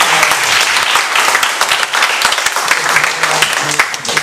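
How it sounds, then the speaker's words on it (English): Audience applause at a tech startup meetup in Vietnam, a loud, dense burst of many hands clapping in a room, with a few sharp individual claps standing out, steady throughout. "Let's give Evan one more big round of applause."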